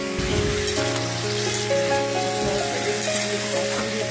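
Poppy seeds frying in a pan: a continuous close sizzle and crackle with faint stirring scrapes, steady and moderately loud, under a soft tonal hum and with no talk.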